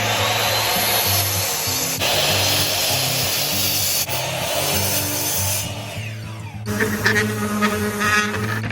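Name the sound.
cutting and sanding wood for a picture frame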